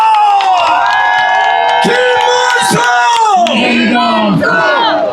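A political rally crowd in Yongin roars with chanting and cheers. Many voices shout in sustained, rising unison, loud and close, with individual yells breaking out over the mass.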